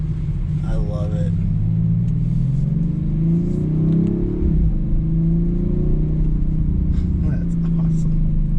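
A 2019 Audi RS5 engine drones loud and close, its pitch swelling and falling through rising revs, with a voice speaking briefly over the rumble.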